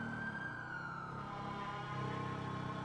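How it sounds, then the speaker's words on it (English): Police siren from a GTA roleplay game, a steady wailing tone holding over a low engine rumble, fairly faint and continuous with no talk. "This is for sirens."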